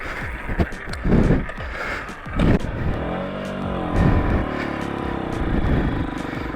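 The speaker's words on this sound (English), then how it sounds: "The bike did still not want to start" A Derbi motorbike upgraded from 50cc to 80cc cranks but fails to start, giving a few rough bursts of engine churning and sputtering that die away, close and loud with no talk.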